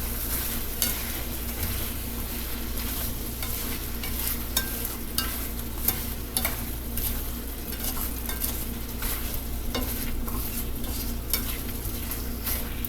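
Apples with cinnamon, sugar and lemon juice stirred in a frying pan, a steady close sizzle broken by frequent soft scraping and clinking strokes of the spoon, with no talking.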